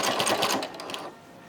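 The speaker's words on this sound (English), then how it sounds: "Can you hear my sewing machine?" A home sewing machine with a worrying, unhealthy sound runs in a quick rhythmic chatter of needle strokes for about a second, then stops, leaving quiet.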